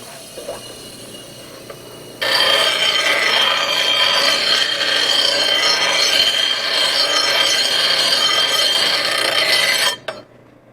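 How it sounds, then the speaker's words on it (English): Metal grinds against the end of a forged holdfast in a loud, harsh, unbroken rasp. It starts abruptly after a quieter lead-in, holds steady for about eight seconds, then cuts off. "I'm just going to grind it on the end a little bit."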